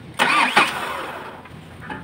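The starter on an Isuzu 4HF1 truck engine, which has a no-crank fault, gives two short, loud engagement bursts in quick succession followed by a fading whir, heard close up.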